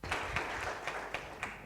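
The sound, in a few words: congregation applause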